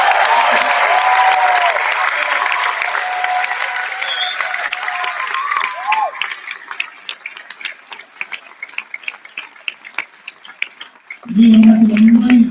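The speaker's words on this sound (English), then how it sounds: "Ladies and gentlemen, can I have a round of applause for Jim?" Audience applause at a talent show, a loud, dense burst of clapping that gradually thins into scattered claps before a voice breaks in at the end.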